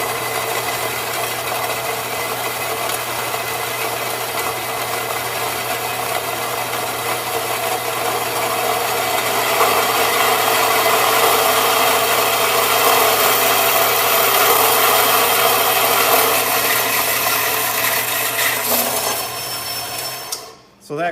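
A saw cuts steel tubing held in a sled fixture, with a stop limiting the depth to half an inch. A loud, continuous grinding rasp holds steady for about twenty seconds, then drops away abruptly at the end.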